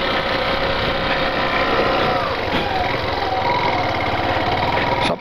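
A motorcycle engine runs steadily up close, a continuous loud drone with no pauses or clear revs.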